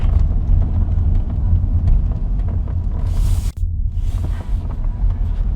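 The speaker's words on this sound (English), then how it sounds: "the intake definitely sounds fresh. Gives that motor a nice sound." Nissan Altima engine fitted with a new intake, accelerating in first gear: a loud, steady low rumble of engine and road noise from inside the car, with a brief gap partway through before the drone resumes.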